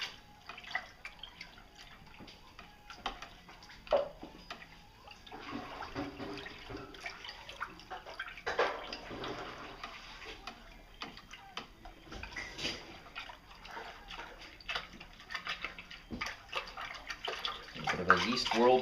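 Yeast being stirred into liquid with a spoon, a soft uneven swirling and sloshing of water with scattered clinks, faint and fairly close.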